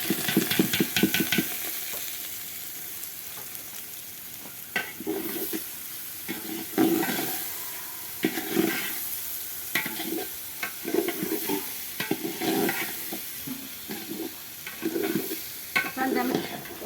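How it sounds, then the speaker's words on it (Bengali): Rice being stir-fried in a pan for pulao: irregular scraping strokes of a spatula against the pan over a soft sizzle, close by and fairly quiet, with no talking. "চালটা আমি সুন্দর করে ভাজি নেব"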